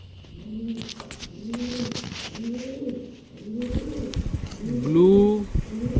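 Pigeons coo steadily in a fancy breeding loft in a village, with repeated rolling calls close by that swell toward the end, and a voice speaks briefly over them.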